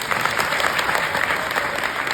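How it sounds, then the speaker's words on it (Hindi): An audience claps together in a steady, dense burst of applause at a devotional spiritual gathering. The applause stays even and fairly close throughout, with no talking over it. "चलो एक बार इनके नाम की तालियां बजा दो सभी।"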